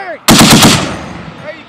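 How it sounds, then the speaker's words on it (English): A machine gun fires a quick burst of about five rapid, loud, close shots during military weapons training, followed by a fading echo over a range. "Get on target. Keep firing!"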